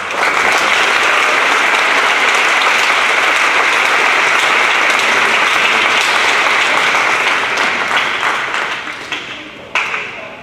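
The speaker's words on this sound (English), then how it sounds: "So round of applause." Sustained audience applause at an academic awards presentation, a dense, steady wash of many hands clapping at full strength before thinning out near the end.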